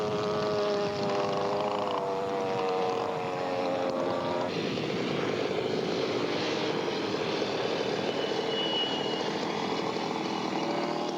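North American AT-6 race plane at the Madera air races in California, its radial engine droning steadily with a shifting propeller tone through the landing and rollout, loud and continuous with no talk.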